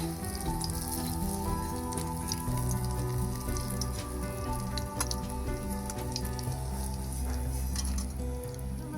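Cauliflower pakoras bubble and sizzle in a pan of hot oil, a steady crackling hiss with scattered pops and drips, close and continuous, with no voices.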